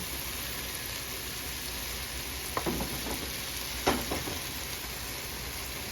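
Bitter melon (ampalaya) sizzles steadily in a hot pan, with a couple of distinct scraping clacks from stirring standing out above the constant frying hiss.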